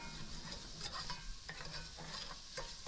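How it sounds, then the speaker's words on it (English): Onions and garlic fry in a pan still coated with browned bits from cooking steak, giving a steady close sizzle with stirring scrapes and no talking. "we'll start cooking our onions and our garlic in a pan that was just used to cook a whole bunch of steak"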